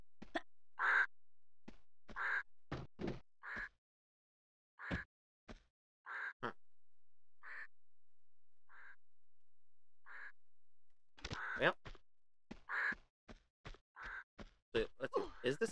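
Harsh crow-like caws from birds in the video game Tomb Raider 2 repeat in short separate bursts, spaced out with pauses, then crowd together densely near the end, loud and close, with no talk over them.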